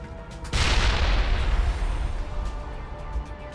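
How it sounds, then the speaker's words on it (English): A single heavy grenade blast in the Mass Effect video game, a sudden loud boom with a rumbling low tail that fades slowly over a few seconds. "I think pressing G again actually blows the grenades."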